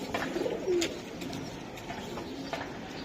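Giribaz chila pigeons coo in a short soft burst near the start, then a lower murmur of birds and background noise carries on, close and fairly quiet.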